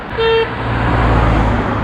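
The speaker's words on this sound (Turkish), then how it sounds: "Herkes ya korna çalıyor ya böyle dalga geçiyor falan" A car horn gives one short, loud toot on a road, followed by a steady rumble of passing traffic close by with no voices.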